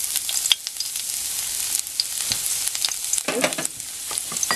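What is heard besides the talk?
garlic sautéing in cooking oil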